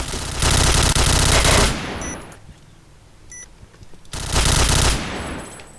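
Loud automatic gunfire in a tactical team shooter, a long sustained burst, a quieter pause with faint electronic beeps, then a second heavy burst of rapid shots.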